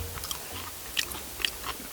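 Crunchy, wet chewing of sea snails close to the mouth, with a few sharper bites standing out against quiet background noise.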